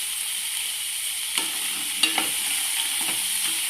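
Garlic and curry leaves fry in hot oil in a pan, a steady bright sizzle broken by a few sharp crackles and light stirring clinks, with no voices.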